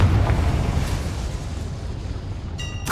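A Confringo spell blast in the Hogwarts Legacy video game: a deep, sustained booming rumble that rolls on loudly, then a sharp bright burst crackles near the end.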